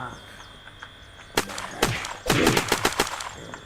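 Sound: gunfire from a gun in the video game Unturned

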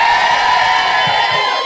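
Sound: women in audience cheering

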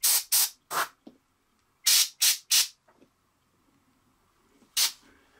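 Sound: airbrush spraying paint on a miniature figure

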